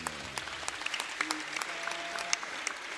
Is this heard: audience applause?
yes